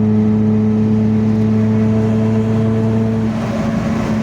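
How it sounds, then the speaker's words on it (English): Steady, loud engine drone with a low hum and constant road rumble, like riding inside a car cruising at speed; no voices. "I do listen to the motor more than I listen to the radio"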